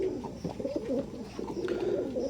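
Teddy pigeons coo softly and continuously, low rolling calls overlapping close by, with a faint hiss of background noise and no talking.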